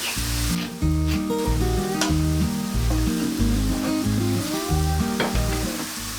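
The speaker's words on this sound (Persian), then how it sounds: "میتونید همون مایتابه رو استفاده کنید که قارچ با همون آب گوشت بپزه." Mushrooms frying in a pan with meat juices, a loud continuous sizzle with rhythmic stirring scrapes and utensil clinks over a low burner hum.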